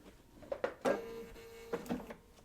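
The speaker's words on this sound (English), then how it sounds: "go back to the machine, flip our fabric, and this time we are sewing between 1 and 5" A home sewing machine stitches quilting fabric in short bursts, with a brief whirring run in the middle and small clicks around it, close and moderately quiet.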